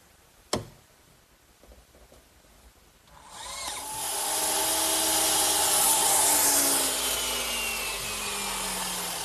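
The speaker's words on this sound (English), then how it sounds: "I'm using my miter box to cut all my pieces of cedar" A sharp knock comes first, followed by a short pause. Then a continuous, loud saw rasp as a miter box cuts through cedar boards for a blanket chest, close up and without talk.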